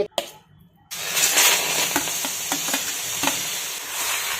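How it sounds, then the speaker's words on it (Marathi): Grated bottle gourd hits a hot kadai with a loud, steady sizzle after a brief quiet start, with intermittent stirring scrapes throughout. "कढई तापलेली आहे आणि आता जो आपण भोपळ्याचा खिस खिसून घेतलेला आहे तो"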